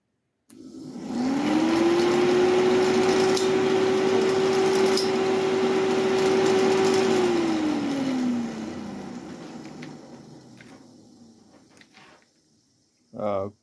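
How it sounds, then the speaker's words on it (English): A Ford Escort Mk1 heater fan motor whirs up to a steady hum for several seconds, then slowly winds down; a brief buzzy rattle follows at the end. "let's see if the heater fan works"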